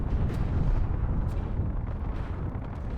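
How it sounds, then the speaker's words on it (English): Artillery fires in the space game Space Engineers as a continuous rumbling barrage of heavy booms, loud and dense, with a few sharper bursts standing out. "No, we're still shooting artillery."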